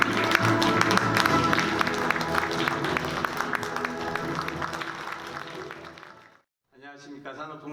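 Applause with background music fills a hall at a textile and fashion industry New Year gathering as an industry ministry official is welcomed to the stage; it breaks off into a brief silence before a voice begins speaking.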